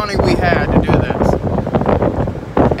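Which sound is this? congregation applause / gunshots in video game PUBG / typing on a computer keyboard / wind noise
wind noise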